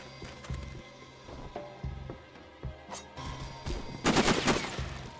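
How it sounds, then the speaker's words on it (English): Gunfire rattles through a firefight in the video game Sniper Ghost Warrior, with repeated sharp shots in uneven bursts and a louder, denser volley near the end. "Starting off the game with a racket, shoot and get shot at."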